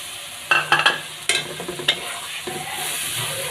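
Spice paste loosened with a little water sautés in a pan for a Bengali fish curry, a soft sizzle beneath several sharp scraping stirs clustered in the first two seconds, quieter toward the end.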